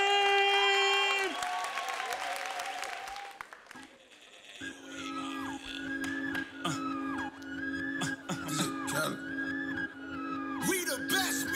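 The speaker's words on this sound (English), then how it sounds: "On applaudit bien fort," Crowd applause at a hip hop dance battle event in Switzerland, a dense wash of clapping and cheering at the start that fades, then gives way to music with voices over it.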